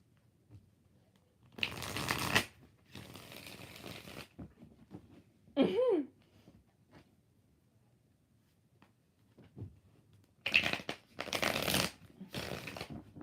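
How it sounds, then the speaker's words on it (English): Tarot cards being shuffled in a few quick riffling bursts separated by quiet pauses, with a short squeaky sound in between. "I don't even know why I'm shuffling until Sarah shows me a question"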